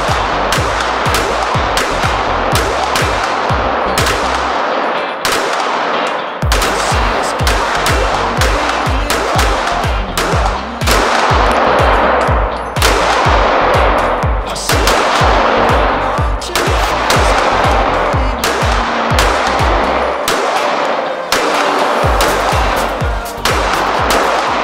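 Handguns fitted with Olight weaponlights fired on a range: continuous loud, rapid strings of shots, with two brief pauses between volleys.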